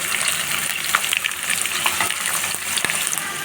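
Sliced onions and two green chillies frying in oil in a pan for a gobi curry, a loud, continuous close sizzle and crackle with occasional stirring knocks, no voices.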